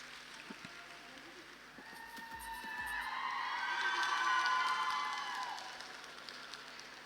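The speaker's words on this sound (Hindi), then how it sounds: "एक बार जोरदार तालियां हो जाए रत्नमाला जी के लिए" Loud applause for a speaker at a Women's Day direct selling women entrepreneurship summit, swelling to a peak midway and then tapering off, with a faint hum underneath.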